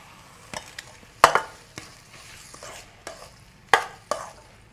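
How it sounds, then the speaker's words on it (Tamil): A spoon scrapes and knocks against metal pots as freshly cooked seeni sambol, a sugar-onion relish, is scooped into another pot. The sharp, close clatters come in an uneven series with quiet gaps. "நாங்கள் வேறு ஒரு பாத்திரத்துக்கு இந்த சீனி சம்பளை மாற்றி கொள்வோம்"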